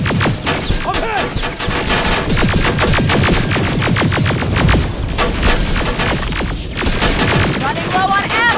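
Heavy video-game gunfire exchange against a turret in Terminator Extinction: dense, continuous bursts of automatic fire and sharp shots with booming impacts, loud and close throughout, with shouted voices over the din.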